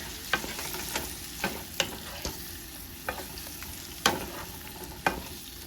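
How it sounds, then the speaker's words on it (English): Shrimp with garlic sizzle in a pan under a steady frying hiss, punctuated by irregular clicks and scrapes of a utensil stirring them. "Sauteing the shrimp till it gets almost light pink."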